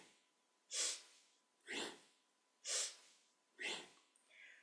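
Rhythmic forceful breaths during a kundalini yoga kriya, four strong sharp exhalations evenly spaced about a second apart, close and alone with no talking.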